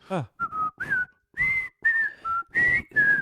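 A clear whistled tune of short, separate phrases, close and fairly soft, with a brief voiced sound just before the first notes.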